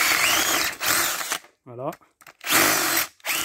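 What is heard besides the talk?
cordless drill with wood bit drilling a hole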